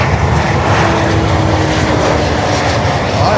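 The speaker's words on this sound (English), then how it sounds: "Alaska Airlines here on runway 9" Alaska Airlines airliner on runway 9, a loud, steady roar of aircraft engines close by, sustained without break over a faint background, with no voices.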